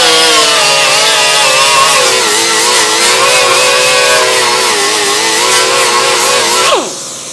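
A grinder works a weld seam on a 1932 Ford steel dash, a loud continuous high-pitched whine with shifting tone under load, running steadily for about seven seconds before spinning down at the end.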